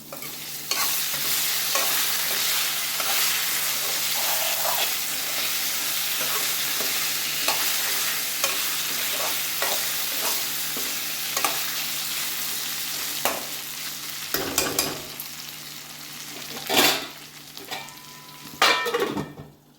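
Potatoes fry and sizzle steadily in a pan while a utensil stirs them, with scraping and clinking strokes rising over the hiss, loudest toward the end; no one speaks.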